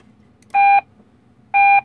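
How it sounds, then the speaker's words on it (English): A Dell Dimension computer running Windows XP emits two loud, identical electronic beeps about a second apart, each a clean steady tone lasting a quarter second, with near silence between. "Beep, beep, beep. Beep, beep, beep, beep, beep. That was loud."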